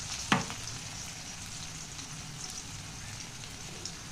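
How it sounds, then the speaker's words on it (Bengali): Chopped onion and black cumin sizzle steadily in hot oil while a tilapia fish curry is cooked, a continuous close hiss with one small tap early on. "তো দেখো পেঁয়াজটা বেশ ভাজা হচ্ছে"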